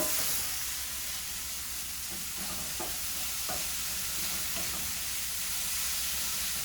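Mushrooms for a breakfast burrito filling sizzle steadily in a pan, a constant close hiss with a few soft stirring scrapes along the way and no talking.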